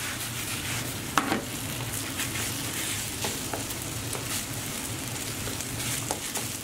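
Nasi goreng, Indonesian fried rice with eggs cooked into it, fries in a pan with a steady close sizzle and occasional stirring scrapes throughout, no talking.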